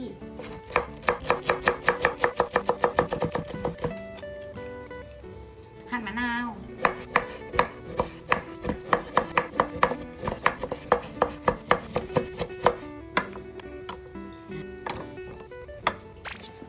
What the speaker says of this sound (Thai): หั่นผักชี